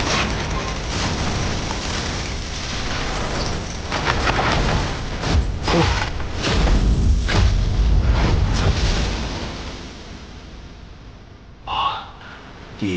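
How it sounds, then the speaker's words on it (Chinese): Explosion blast effect from an animated fantasy series: a sustained roaring, crackling rumble with heavy low booms building in the middle, then fading to a hiss before a brief final burst. "小豆丁，被轰飞的滋味如何呀？"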